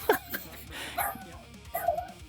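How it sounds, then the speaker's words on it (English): A dog barks at a pigeon, letting out three or so short, sharp yips spaced about a second apart over a quiet background. "That's your birdie bark, isn't it?"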